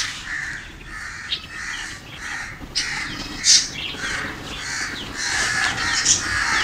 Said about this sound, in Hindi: ये देखिए कौवे का बच्चा